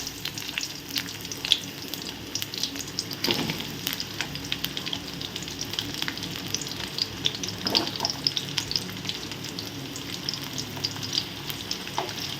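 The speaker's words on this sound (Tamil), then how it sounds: "இப்போது பச்சை மிளகா போட்டுக்கலாம் கூடவே வெங்காயமும் போட்டுக்கிறேன்" Green chillies and sliced onions fry in hot oil in a kadai, giving a steady, close crackling sizzle with occasional sharper pops and spatters throughout, no voices over it.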